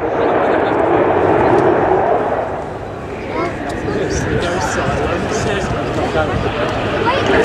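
A Eurofighter Typhoon jet roars loudly overhead at low speed at an airshow, its broad engine rumble sustained throughout, with someone talking over it.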